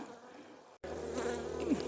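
A steady, close buzzing of honey bees at their hives during mite treatment hums continuously, briefly cutting out before resuming louder and denser.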